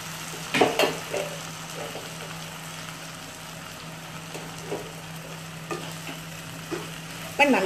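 Onion and tomato paste sauté in a pan for a fish curry, a soft low sizzle under a faint steady hum, broken by a few stirring scrapes and spoon clinks.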